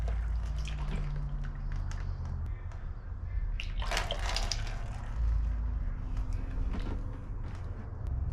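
Transmission fluid from a Duramax drains out of the pan into a catch container, a steady liquid pour and splatter with a few drips, fairly close and alone.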